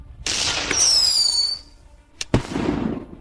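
Cheap fireworks burst loudly: a whistling rocket streaks upward, followed by sharp cracking explosions and a crackling tail, all without speech.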